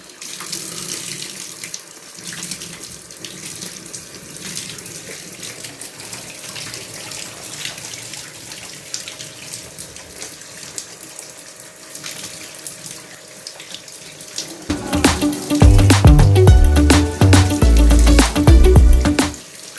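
Cold shower water running in a steady hiss that grows louder and heavier near the end as the flow strikes harder, close and unaccompanied by talk.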